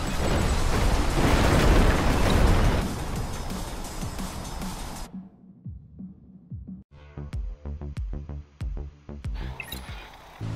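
Explosions in the roller-coaster video game Scream Ride: a loud, dense rumbling blast roll that cuts out abruptly, followed by quieter mechanical clicks and sharp popping hits over a soft tonal game soundtrack.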